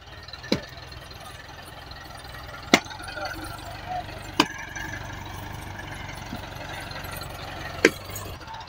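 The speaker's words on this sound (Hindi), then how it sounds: "तो फाइनली इन्होंने अभी अपना ट्रैक्टर स्टार्ट कर लिया है इधर" Tractor engine, started among cut trees being felled with axes, runs at a low steady idle throughout, fairly quiet and in the background, broken by a few sharp knocks and clicks.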